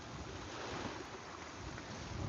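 Ocean waves heard from the shore as a steady, faint wash of surf mixed with wind noise, continuous and even with no distinct breaks and no voices.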